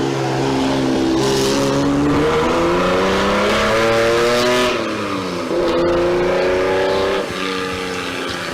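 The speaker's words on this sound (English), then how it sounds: "The Holden 6-cylinder is a popular engine for all manner of race cars." A Holden six-cylinder special race car roars off the line at a hill-climb sprint, its engine revving hard through rising gear pulls, loud and close, dropping between shifts before climbing again.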